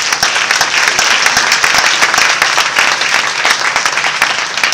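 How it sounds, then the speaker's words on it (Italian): An audience at a professional conference applauds the rapporteurs, a dense, loud and continuous round of clapping from many hands that fills the whole stretch without letup. "Moi, je voudrais qu'on applaudisse en fait les rapporteurs,"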